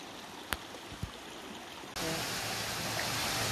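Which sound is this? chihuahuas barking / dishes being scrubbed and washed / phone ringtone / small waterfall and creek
small waterfall and creek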